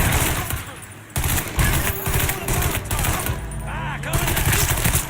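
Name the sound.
gunfire in a shootout, from the video game Mafia III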